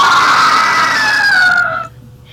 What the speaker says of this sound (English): If your friend saw a spider and made this sound, how would you think they feel about spiders?